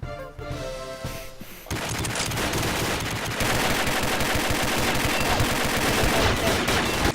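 Dense, rapid gunfire from a first-person shooter game bursts out after a brief musical intro, a sustained loud fusillade of shots that carries on steadily to the end.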